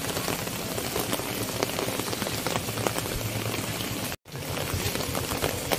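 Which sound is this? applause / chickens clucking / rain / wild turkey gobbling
rain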